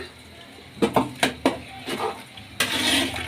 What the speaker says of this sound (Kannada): ಈಗ ಎಲ್ಲ ಚೆನ್ನಾಗಿ ಮಿಕ್ಸ್ ಮಾಡ್ಕೊಳ್ಳೋಣ